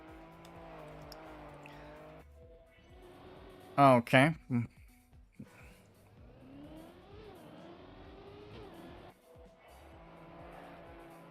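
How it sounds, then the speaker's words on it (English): Game engine sound of a rally car driving in Trackmania, a steady drone with a shifting pitch and a brief loud burst of skidding tire noise, while someone talks over much of it. "Oh no, that's a rally car."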